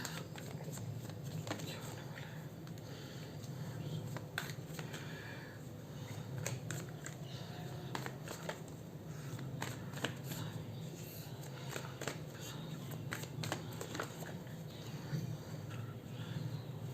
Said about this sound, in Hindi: चलिए और कार्ड्स निकाल लेते हैं